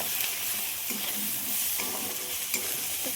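Salt, turmeric, Kashmiri chilli powder and ground coriander mixed and fried together in a hot pan, giving a dense, bright sizzle with a few soft scraping strokes, close up and continuous.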